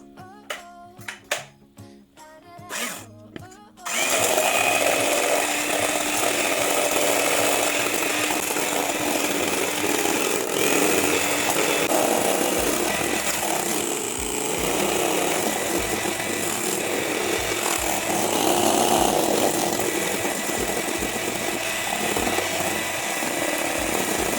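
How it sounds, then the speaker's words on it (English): An electric hand mixer whips melted chocolate, a continuous loud buzzing motor drone that kicks in after a few seconds of clattering handling noises and holds steady to the end. "because I want it to be fast, I'm going to use a hand mixer"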